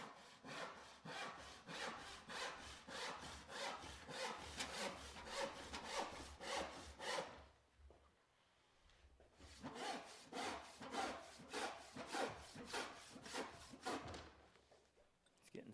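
A hand saw cuts through wood in quick, even push-pull strokes, each one rasping loudly and close by. The sawing pauses briefly partway through, then resumes at the same steady pace.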